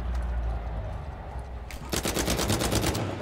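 Gunshots in Uncharted 4 multiplayer: after a low rumbling lull, a burst of rapid automatic fire starts abruptly and carries on loudly in a steady stutter to the end.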